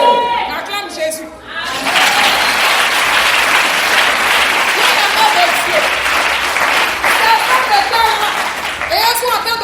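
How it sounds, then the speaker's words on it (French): A church congregation at an evangelistic service breaks into loud, sustained applause and cheering after a brief spoken line, with crowd voices and shouts mixed through the clapping until it tapers near the end. "Acclame Jésus."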